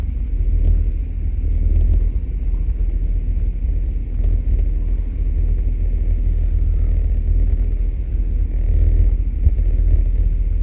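A steady low rumble of road traffic passing, with engine drone and wind noise continuing throughout.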